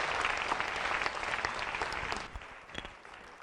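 Studio audience applause greets a guest called onstage during an Italian television variety show, a dense, steady wash of clapping that runs the whole time and thins slightly toward the end.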